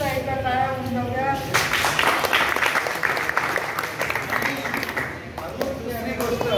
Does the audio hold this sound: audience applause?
yes